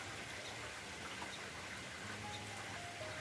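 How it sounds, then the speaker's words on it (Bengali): Rain starting to fall outside a house, a steady, even hiss of drops on surfaces, faint and continuous throughout. "এই যে শুরু হয়েছে বৃষ্টি"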